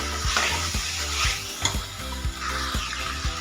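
Chicken gravy masala (gavran chicken rassa) being stirred in a pan after salt is added, with a steady close sizzle and a regular rhythm of spoon scrapes and knocks against the pot.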